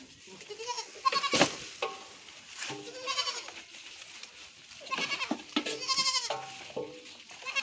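Goats chewing freshly cut grass nearby, with rustling of stems and crunching bites in uneven bursts, and occasional bleats mixed in.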